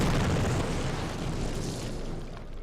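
Explosive detonation in the Call of Duty video game, a loud, dense rumbling boom that begins at full strength and slowly decays over a couple of seconds without dying out.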